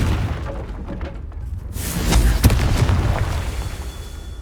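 Confringo blasting spell from Hogwarts Legacy detonating as a loud, booming explosion with crackling debris over a rumbling game soundscape, about one main blast.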